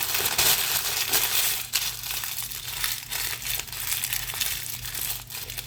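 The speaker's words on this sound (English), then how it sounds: "If you want your parchment paper to fit better in your pan, just crumple it up about 2 times like this." Parchment paper crumpled by hand for lining a baking pan gives loud, close, continuous crinkling and crushing, with a few sharper crackles and no talking.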